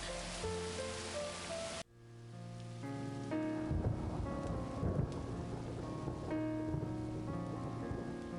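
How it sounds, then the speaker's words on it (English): A stormy night of steady, loud rain and wind, with tonal sounds laid over it, cut off abruptly before the downpour continues for the rest of the stretch. "A storm like that will keep us all indoors."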